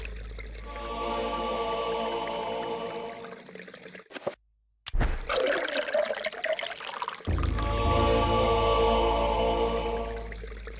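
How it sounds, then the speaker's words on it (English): Water pours and trickles steadily into jars in the video game Eternal Darkness, a sustained gurgling fill that breaks off briefly, then returns with splashy sloshing before the steady pour resumes. "So what we need to do here is fill these jars with water."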